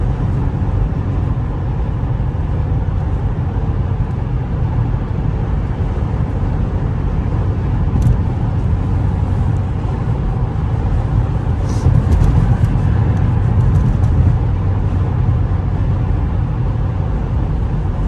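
A 2006 Toyota RAV4 with a 3.5L engine drives on city streets and freeway, giving a steady, loud cabin drone of engine and road noise that runs the whole time with no pauses or talking.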